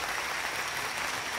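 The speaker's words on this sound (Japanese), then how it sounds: "第2部のトークセッションにご登壇の皆さんに改めて拍手を送りください。" Outdoor audience at Hibiya open-air concert hall applauding talk session speakers at a rally, a dense, continuous roar of clapping at steady volume for a brief moment.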